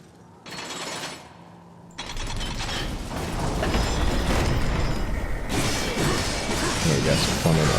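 Elevator machinery grinding and clanking in the Darksiders video game, a dense mechanical rumble with ratcheting metal that starts after a brief burst and swells louder and steadier over several seconds.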